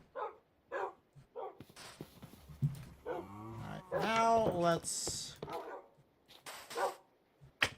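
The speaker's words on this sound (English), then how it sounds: "And the dog is starting to get noisy and bark a lot more." A dog in the game Minecraft barks repeatedly in irregular bursts alongside someone talking, with a longer whining, howling stretch in the middle.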